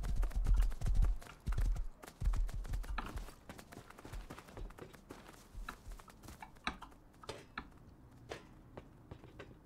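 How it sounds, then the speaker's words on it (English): Horse hooves clip-clop in the survival game Rust, heavy close thuds at first that settle into a steady, quieter galloping rhythm, with no talking over the steps. "There's a horse here."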